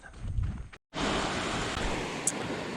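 Ocean surf rolls onto a sandy beach during a snook fishing walk along the water line, a loud broadband wash with wind rumble. It breaks off briefly and then resumes as a steady roar with no talking.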